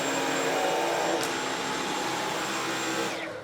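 A Dyson V11 Absolute cordless stick vacuum cleaner runs at a steady, loud, high-pitched whine up close, then begins to spin down as it switches off near the end, with no talking.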